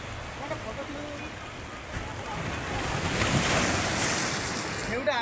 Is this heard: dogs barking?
no